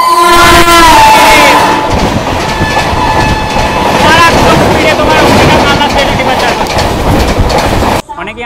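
Train 12518 Garib Rath Express rushes past at speed, a loud close roar and rattle of wagons with a horn blast at the start and crowd noise around it, fading out abruptly near the end.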